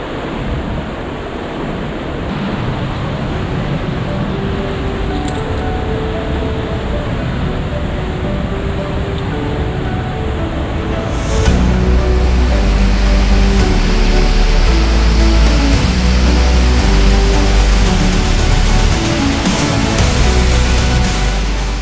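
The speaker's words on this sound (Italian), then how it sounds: "E questo è il salto superiore della cascata nella parte alta di questo canyon." A waterfall roars in the upper part of a canyon at Fanes in the Dolomites, a loud, continuous broadband rush that grows heavier midway, mixed with wind buffeting the microphone.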